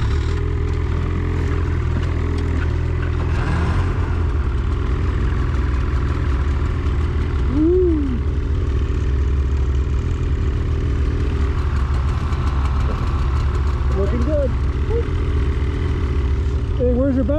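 Snowmobiles idle steadily while warming up outdoors in the Northwest Territories, a continuous low engine rumble close by, with voices talking over it throughout.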